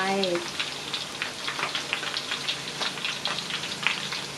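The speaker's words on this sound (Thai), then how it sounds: "ทุกครั้งที่เราทอดนะคะ ใส่ใบเตยลงไป" Banana chips frying in hot oil with pandan leaves added, a steady close crackling sizzle with scattered pops, preceded by a brief voice at the start.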